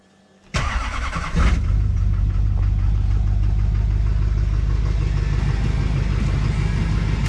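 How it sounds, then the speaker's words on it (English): A Duramax diesel engine cold-starts: a brief electric whine as the lift pump primes, then the starter cranks and the engine catches into a loud, steady, clattering diesel idle that runs on close by with no talking. "we'll do a quick cold start on the duramax"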